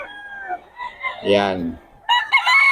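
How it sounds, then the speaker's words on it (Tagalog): Roosters crow loudly up close at a poultry market in Bukawi, with a full cock-a-doodle-doo in the middle and another beginning at the end, plus clucking and someone talking. "Maganda ng mga manok"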